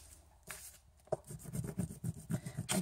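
A Sizzix embossing folder being rubbed firmly to emboss card, giving a rhythmic series of close, dry scraping strokes that grow stronger after a quiet start.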